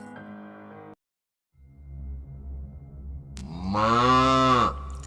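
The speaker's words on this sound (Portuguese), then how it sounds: "Acordei com um mugido bem alto, então levantei e ouvi mugido sem parar." A loud, drawn-out cow moo with rich harmonics rises near the end, preceded by a shorter lowing call and a brief silence.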